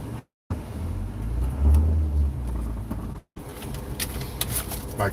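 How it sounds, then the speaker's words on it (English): Road traffic in Fort Lauderdale two days after a hurricane, with a steady low rumble of cars passing nearby, a swell in the middle, and two short dropouts in the sound. "More traffic on the road than usual"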